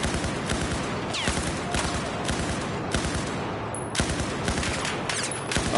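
Sustained rapid gunfire in a military video game firefight, dense repeated bursts of shots overlapping continuously and loud throughout, with sharper crack-like reports standing out, and no talk.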